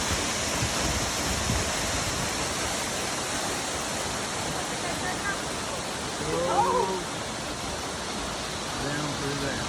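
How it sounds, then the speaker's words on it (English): Waterfall in Western North Carolina roaring as a steady, dense broadband rush throughout, loud and close, with brief faint voices over it near the middle. "Beautiful waterfall."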